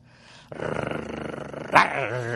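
A man imitates a dog's growl, giving a rough, rumbling, pulsing snarl that rises into a louder roar, close and on its own.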